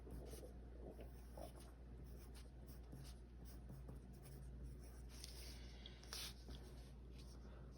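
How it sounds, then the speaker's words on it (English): Colored pencil scratching steadily across paper with continuous, close, fairly quiet strokes and a low hum in the background. "I'm going to write same direction"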